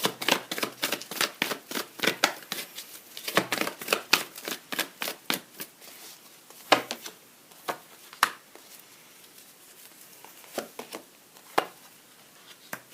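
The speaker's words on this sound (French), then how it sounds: "on va tirer encore 2 cartes" Tarot cards are shuffled and drawn in a quick run of crisp riffling snaps and taps, close and fairly quiet, the flurry thinning into separate clicks toward the end.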